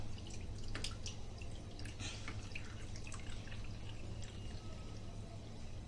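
Water being drained off soaked chana dal in a village kitchen, a steady close pour and dribble with scattered drips over a constant low hum, no talking.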